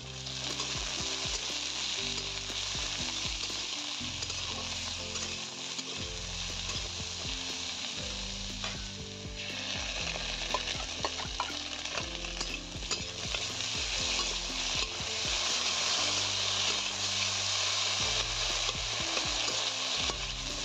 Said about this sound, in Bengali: সব কিছু ভালোভাবে কিছুক্ষণের জন্য কষিয়ে নেব।